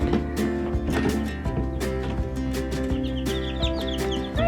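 Baby chicks peeping as they are moved out of an incubator into a brooder, a busy overlapping chorus of chirps with clucking-like calls throughout, fairly close.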